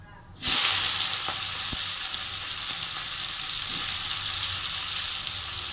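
Onion hitting hot oil with bay leaf, cinnamon and cloves in a home kitchen pan for bagara rice, a sudden loud sizzle that settles into a steady close frying hiss with faint spoon taps.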